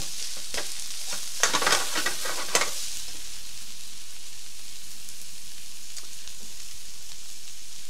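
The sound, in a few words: potatoes sizzling in frying pan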